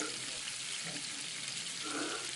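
Spice paste with Kashmiri chilli and a little water fried and stirred in a pan for chicken kosha, a dense steady sizzle with soft scraping strokes, close and continuous.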